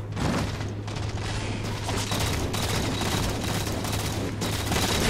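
Continuous loud rumbling bursts of grenade explosions in the video game Halo 4, dense and overlapping throughout with a steady low hum beneath.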